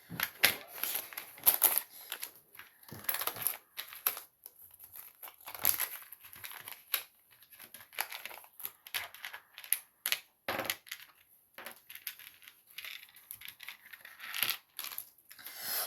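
A Temu craft kit package being opened by hand: close, quiet plastic crinkling and rustling in irregular bursts with small clicks and taps, with no talking.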